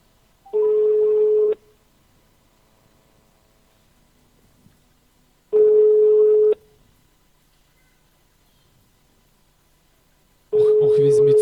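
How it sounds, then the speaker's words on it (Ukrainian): A telephone line tone repeats during a call to a contest participant at a live broadcast prize draw, sounding three loud steady beeps about five seconds apart, each roughly a second long, with near silence between them. "І одразу телефонуємо учасниці на ім'я Мирослава"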